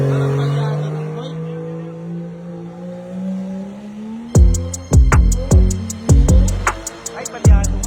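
A car engine misfires: a droning rev slides down in pitch, then breaks into a loud, uneven run of sputtering pops and bangs.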